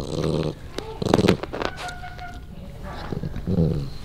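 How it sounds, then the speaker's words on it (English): Dogs growl and snarl in short bursts while ripping apart stuffed toys indoors during a Christmas gathering, the rough growls coming close and fairly loud with pauses between them. "Dude, it's like they try to tear apart the toys so fast."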